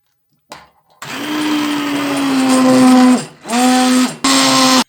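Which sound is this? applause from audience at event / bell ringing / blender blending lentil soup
blender blending lentil soup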